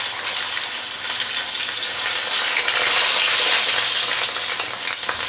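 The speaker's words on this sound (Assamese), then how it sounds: "প্ৰথমতে মাছৰ মূৰখিনি এনেকৈ ভাজি ল'ম" Large fish heads, salted, frying in hot oil in a pan, a loud, steady, dense sizzle with constant crackle and spatter that swells slightly midway, with no talk.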